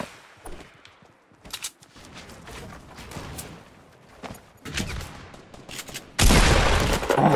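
Fortnite gunfire arrives as scattered shots and short bursts at varying distances, swelling into a loud, dense volley near the end.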